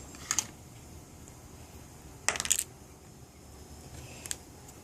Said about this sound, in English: you simply push it in and it pops out